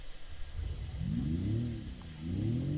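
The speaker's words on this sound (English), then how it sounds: "Now on the inside of the car, you can hear this revving sound." Synthetic engine revving piped into the cabin of a Denza electric hypercar, two rising and falling harmonic swells heard from inside, moderately loud and clean with no voices.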